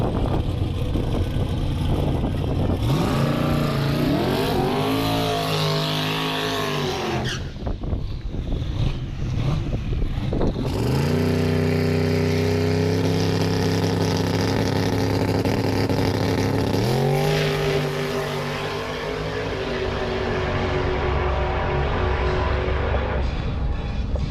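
A twin-turbo Fox-body Mustang makes a full drag-strip pass, its engine roaring loudly through rising gear pulls with sharp shift breaks, then settling into a long steady drone as it passes, with heavy wind rush throughout.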